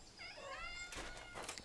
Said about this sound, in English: Is that meowing?